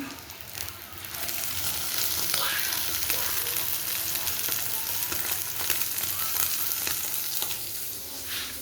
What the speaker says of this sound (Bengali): সব ডিমগুলো এরকম উল্টে পাল্টে ভেজে নিয়েছি চাটের মধ্যে গোল করে দিয়ে